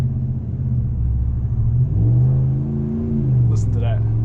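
A 2023 Dodge Ram 1500 Big Horn 4x4 pickup engine idles with a deep rumble, then revs up briefly and settles back, loud and close.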